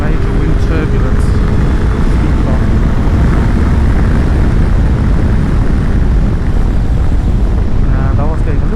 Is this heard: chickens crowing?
no